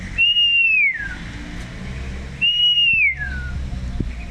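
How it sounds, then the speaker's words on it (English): An Indonesian hill myna gives two loud, clear whistled calls, each a sustained note that slides downward at the end, separated by a pause, over a low background rumble. "And then the Indonesian hill myna."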